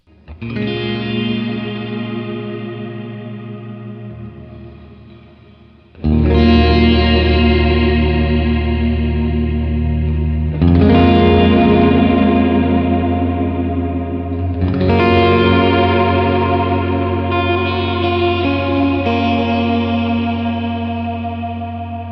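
Electric guitar chords ring out through heavy effects, swelling with chorus, distortion and long reverb tails, each strum washing into the next.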